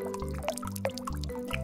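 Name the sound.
rainwater dripping from leaky roof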